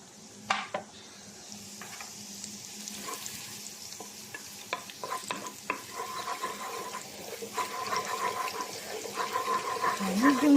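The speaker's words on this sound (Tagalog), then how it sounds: "Maggisa na tayo ng bawang at sibuyas" Garlic and onion sautéing in a pan, with a moderate sizzle that builds steadily while a spoon clicks and scrapes against the pan in irregular strokes.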